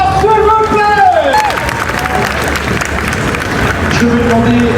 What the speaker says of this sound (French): Merci d'applaudir très fort, s'il vous plaît.